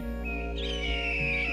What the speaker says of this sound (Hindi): बाज चमेली चिड़िया के पीछे पीछे उसे पकड़ने के लिए उड़ता है।